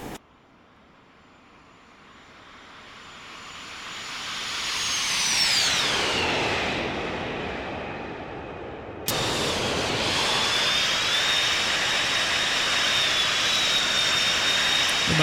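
A jet airliner's engines roar in a simulated flyby, whining pitch sweeping downward as the aircraft passes, then a sudden cut to a steady loud broadband roar with a high whine on top.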